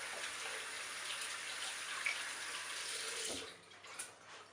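Hands rinse under a running outdoor tap, a steady close splash of water that eases off toward the end with a few scattered drips.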